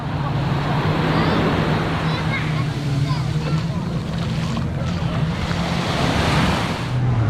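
A busy sea at Marina Smir beach near Tetouan, Morocco, produces a constant roar of surf and wind, with full, steady wave noise and no pauses.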